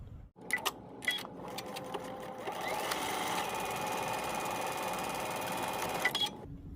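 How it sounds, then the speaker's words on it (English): A sewing machine running a dart seam on fabric, a few soft clicks and taps at first, then a steady continuous whir of stitching for several seconds before stopping abruptly, fairly quiet and close. "we'll take it to the machine and we'll stitch it 5/8 of an inch seam allowance"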